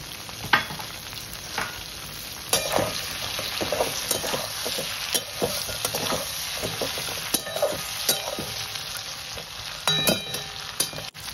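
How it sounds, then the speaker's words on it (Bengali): Crab pieces and chopped onions fry in hot oil in a pan, a dense continuous sizzle broken by repeated sharp scrapes and clicks of stirring, close and fairly loud with no talk. "পেঁয়াজগুলোকে দিয়ে আমি খুব ভালো করে কষাবো।"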